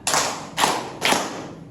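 Three hard hand claps in a counted rhythm, evenly spaced about half a second apart, each ringing briefly in a roomy space, loud and close with no talk.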